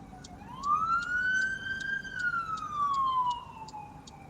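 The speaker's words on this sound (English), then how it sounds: "We got some sirens." A police car siren wails past a moving car, one long rising-and-falling sweep over a few seconds with a faint pulsing overtone, fairly loud and alone above low road rumble.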